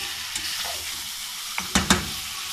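Beef frying for nihari as it turns golden, a low close sizzle with a few sharp scraping strokes of a spoon stirring against the pot near the end, no speech.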